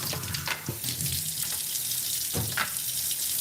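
Water running from a kitchen tap while items are rinsed under it, a steady close splashing stream with brief bumps and clatters as things pass beneath the flow.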